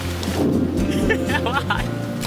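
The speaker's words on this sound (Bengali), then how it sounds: "জোরে জোরে বৃষ্টি পড়ছে ভাই" Heavy rain pours down on a tree house roof with a low rumbling backdrop while a person talks over it.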